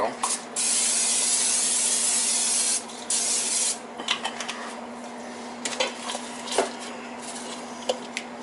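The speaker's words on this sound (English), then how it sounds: "get your pan ready also with some pan spray" A steady hiss of cooking spray onto a pan lasts a couple of seconds, followed by quieter rubbing and light clinks of kitchenware.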